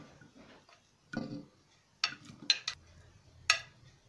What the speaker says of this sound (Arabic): هضيف البصل بتاعي في الطاجن